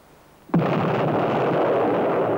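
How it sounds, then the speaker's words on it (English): Anti-tank mine detonating under a tank track target during a test, a sudden heavy blast after brief quiet, followed by a sustained loud roaring rumble of debris and echo. "Detonates under the track of a medium tank."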